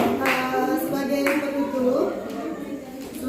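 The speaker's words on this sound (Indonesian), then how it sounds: "Tepuk tangan." A classroom group of students gives a short round of applause, with scattered clapping mixed under voices talking.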